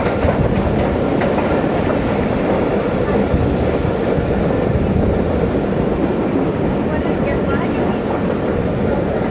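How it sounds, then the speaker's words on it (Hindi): A passenger train approaching Gujranwala Cantonment in heavy early-morning rain runs with a loud, steady rumble and rhythmic clickety-clack of wheels, close and continuous throughout. "ट्रेन हमारी अप्रोच कर रही है गुजरांवाला छावनी पे"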